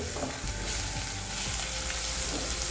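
Five cloves of garlic and a half-inch piece of ginger sauté in hot oil over a high flame, giving a loud, continuous crackling sizzle with faint scraping of stirring and no talk.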